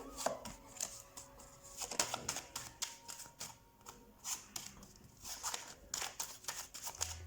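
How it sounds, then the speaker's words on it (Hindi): Tarot cards are shuffled by hand in a series of quick, crisp flicks and soft clicking bursts, close and fairly quiet, arriving in uneven clusters with brief pauses between. "वेट, पहले मैं शफल कर दूँ।"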